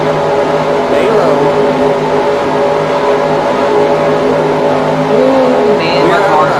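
A loud, steady race car engine drone with shifting pitch from the NR2003 racing video game, accompanied by talking over it throughout.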